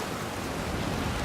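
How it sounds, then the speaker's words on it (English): Storm and heavy rain lash a ship's deck in Pillars of Eternity 2, a steady, dense wash of rain noise at constant loudness, with no voices. "The storm picks up, lashing your ship and driving you to dangerously close to rocky shore."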